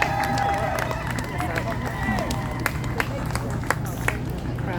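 A rally crowd cheers and claps for Dr. Umar Johnson at BantuFest, a steady wash of applause with scattered sharp claps and shouts, fairly close, with voices mixed in throughout.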